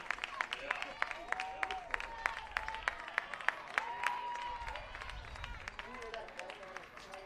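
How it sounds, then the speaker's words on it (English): A baseball crowd of Scots fans cheers and claps after a three-run home run, a steady wash of applause with scattered sharp claps and shouts throughout, heard at a distance. "you can hear the excitement from that Scots crowd"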